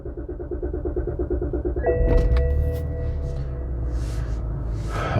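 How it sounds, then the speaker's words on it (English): A 2007 BMW X5 E70 SUV, carrying a faulty gear selector switch fault, is started: a rapid starter crank gives way to the engine catching and settling into a steady idle, heard up close. "Let me try to start the car."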